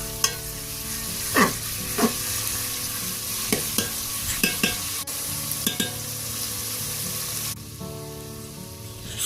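Chopped onion sizzles steadily in hot oil on a wood-fired stove, with a few sharp stirring scrapes and knocks punctuating the frying; no one speaks.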